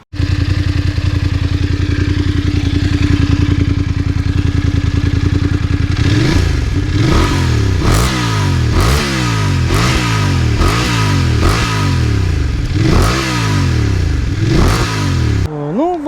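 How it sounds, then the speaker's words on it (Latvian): A 2026 Voge DS900X motorcycle engine idles steadily, then revs repeatedly in sharp rising bursts through its stock exhaust, loud and close, ending with a brief whine. "Skaņa ir tāda oriģinālam izpūtējam."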